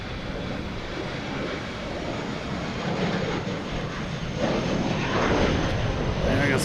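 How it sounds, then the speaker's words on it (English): A Delta Embraer E175 jet taking off at night from Boston Logan Airport produces a broad, steady roar that swells louder toward the end, with a voice faintly present in the background. "Right now we have a Delta taking off heading to LaGuardia in E175."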